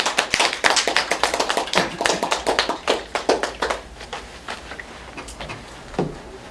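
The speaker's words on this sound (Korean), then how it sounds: "그럼 박수로 선생님 한번 모셔볼게요" An audience applauds to welcome a guest lecturer at a travel talk, with loud, dense clapping that swells, then thins into scattered claps and fades out over several seconds.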